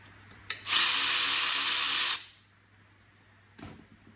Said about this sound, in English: we're going to undo this little bolt on the side, which is a 10mm